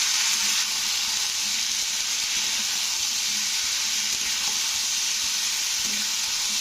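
Pumpkin pieces and onions sizzling in hot oil in a pan, a steady loud frying hiss throughout with faint occasional stirring clinks.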